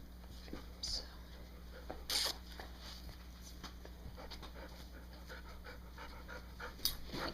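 A dog pants steadily and close by during quiet knitting, with faint whispering and soft handling noises over a low electrical hum.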